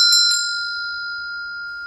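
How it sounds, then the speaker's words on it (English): A Tibetan temple bell is struck, giving a bright metallic ding that rings on with a long, steady, slowly fading tone. "This is a Tibetan temple bell."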